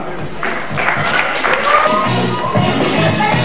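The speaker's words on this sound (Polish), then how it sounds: "Wielkie brawa." Audience applause at a dance tournament award, steady and fairly loud, with scattered claps and thumps blending into a continuous patter that swells slightly toward the end.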